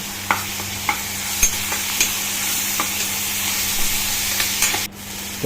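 Garlic paste frying in a pan for a pea masala kurma, a steady close sizzle with sharp clicks of a spoon stirring and scraping through it, then a sudden drop near the end.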